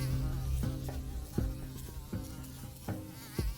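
Mosquitoes buzz around an old bald carpenter's head as he planes wood in his shop, a steady insect drone with repeated soft knocks from the planing, close and moderately loud, with no talk.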